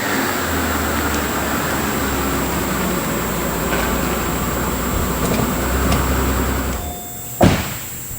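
A Mercedes-Benz SL600 with a twin-turbo V12 accelerates in first gear as a loud, steady roar fills the cabin, then eases off near the end.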